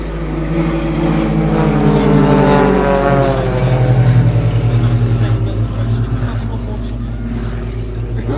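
A propeller-driven aerobatic display aircraft from the Global Stars team drones steadily at an air show at Little Gransden, its engine note rising and falling beneath spoken commentary.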